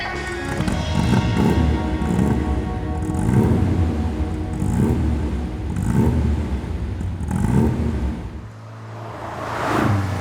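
A Rover Mini Cooper 1300 with a straight-through exhaust idles and revs in a steady, throaty drone, swelling in regular surges every second or so, loud and close.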